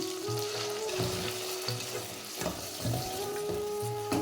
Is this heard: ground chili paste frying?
yes